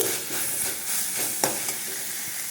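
A tempering of spices fries in a pan, crackling and hissing steadily with small popping bursts, close up and fairly loud, with no talk.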